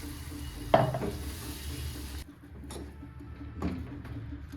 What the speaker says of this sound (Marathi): आता तेल सुटेपर्यंत ह्याला आता आपण परतून घेणार आहे